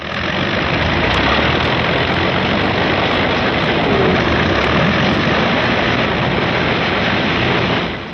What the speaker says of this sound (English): Out on the line, General Moore's P-51s are warming up for the longest fighter flight on record.